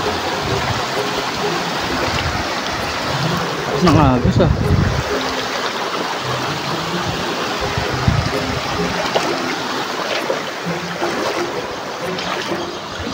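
A river flows as a constant broad rushing wash, with a brief splashy burst partway through, while a voice speaks briefly over it.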